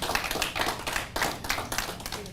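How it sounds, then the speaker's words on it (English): Audience at a lecture on Israel's culture and seasons clapping in a brief, moderately loud burst of applause, no voices over it. "go ahead, applaud for him."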